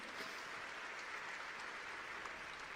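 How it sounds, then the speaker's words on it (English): Faint, steady wash of audience applause at a startup pitch event, even and unbroken from start to finish, with no talk over it. "Another round of applause for her, please"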